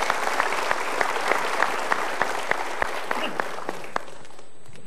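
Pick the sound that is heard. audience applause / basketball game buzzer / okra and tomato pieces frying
audience applause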